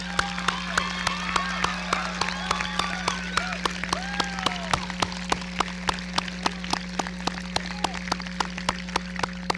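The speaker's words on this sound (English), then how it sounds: "please join me in applauding this remarkable group of individuals" Scattered, fairly distant applause from a crowd at a high school graduation, with crisp individual claps over a steady electrical hum.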